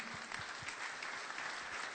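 Steady applause from an audience, dense clapping that fills the whole stretch at an even level with no voices standing out.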